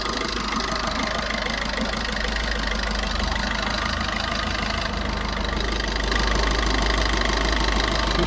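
A 2018 model vehicle idles with its engine in excellent condition, giving a steady, even mid-pitched hum with a light rhythmic knock, close and continuous throughout.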